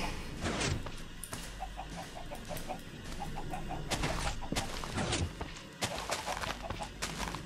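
Chickens in Minecraft cluck in quick repeated bursts, fairly close and clear, mixed with clopping hoof-like steps and other game noises, with no speech.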